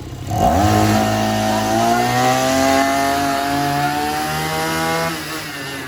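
A petrol brush cutter that runs but won't take throttle revs up sharply. Its engine holds a loud, buzzing high pitch for several seconds before easing back down.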